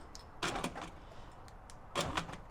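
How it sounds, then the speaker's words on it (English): Driver's door lock actuator on a Nissan GU Patrol runs in two short, quiet mechanical bursts about a second and a half apart, each a brief whirring clunk against a faint background. "So as we can see, actuator works, but the lock doesn't work inside."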